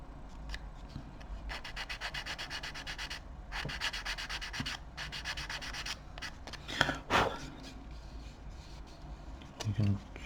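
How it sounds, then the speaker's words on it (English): A sanding stick is rubbed gently over a small part of a Wingnut Wings Junkers D1 model aircraft kit, making bursts of fine, rhythmic scratchy strokes close by, with a few knocks and handling sounds between passes. "grab the sanding stick,"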